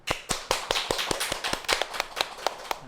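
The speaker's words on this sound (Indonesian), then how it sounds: "Tepuk tangan dulu dong." Clapping for a guest on an Indonesian talk show, heard as a steady run of about a dozen sharp, evenly spaced claps, close and fairly loud with no talk over them.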